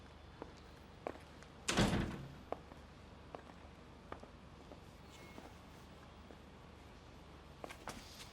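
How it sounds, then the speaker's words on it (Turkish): A door swung shut indoors, giving one loud close near the start against a quiet room, followed by faint scattered knocks and small movements. "Kapıyı da kapatalım."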